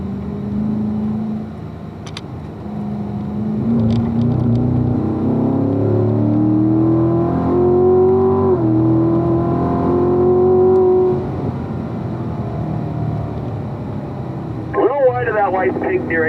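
A race car laps a track with its engine droning and rising in pitch through a long pull, then dropping as it downshifts to third gear; someone talks steadily over the loud, close engine.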